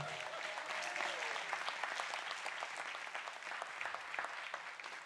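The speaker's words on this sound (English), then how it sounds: "one more round of applause for all these amazing men and women" An audience at a city council meeting applauds in a dense, steady wash of clapping for the full stretch, with a faint voice under it at the start.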